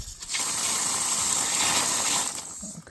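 Water gushes steadily from a well after the pump starts, a loud, dense rushing stream that holds for nearly three seconds before tapering off.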